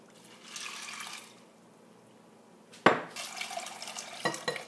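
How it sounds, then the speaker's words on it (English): Water is poured over brown rice in a container to soak, giving two gentle splashing bursts with a clatter and a quiet pause between them, close by, with no talking. "And what you do, you just pour water here."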